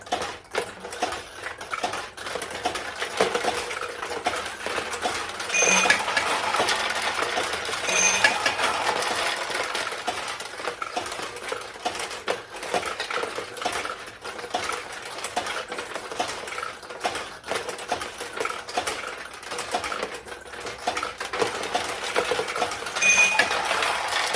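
A restored vintage pachinko machine with a bowling alley centerpiece rattles continuously as metal balls drop and roll, a dense steady clatter with occasional brighter pings, close and fairly loud with no talk.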